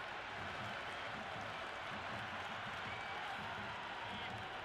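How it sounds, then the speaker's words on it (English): In the cricket video game Cricket 26, during an India versus South Africa test match, a stadium crowd roars with a dense, steady wall of cheering and applause that holds loud for the whole stretch. "The crowd is electric right now."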